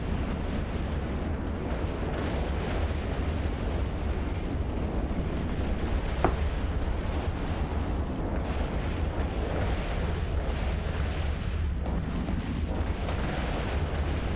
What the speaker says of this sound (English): There's obviously guns that are shooting here